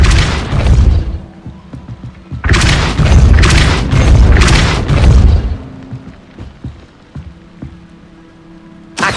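A Depulso spell cast in the Hogwarts Legacy video game, giving loud, broad booming bursts with a rumbling, rain-like wash that swells over several seconds and then fades into quieter ambience.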